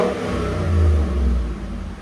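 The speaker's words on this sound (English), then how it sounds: "here we go with Corsa performance muffler stock resonator. Go ahead. It's not too bad. Give it gas." A Ford F-150 5.0L V8 fitted with a Corsa performance muffler and stock resonator revs briefly, a deep, close engine rumble swelling and easing off without talk.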